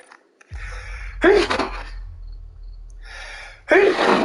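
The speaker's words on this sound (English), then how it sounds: "Oh, I sneezed." A person sneezes twice in a sharp, loud burst about two seconds apart, over a low constant hum from a video game running in the background.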